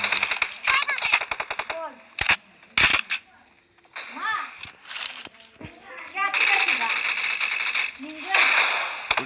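Rapid automatic gunfire bursts from a BGMI team deathmatch round ring out loudly in stuttering volleys, while a young-sounding voice talks excitedly over the shooting.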